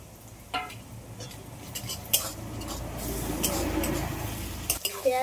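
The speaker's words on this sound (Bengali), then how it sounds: "এইবার আমি এই অবস্থায় এখন দিয়ে দেবো আদা রসুন গ্রেট করা এটা" Softened onions frying with freshly added grated ginger and garlic while cooking chicken kosha: a close sizzle that swells midway, broken by scraping and clinking as a spatula stirs against the pan.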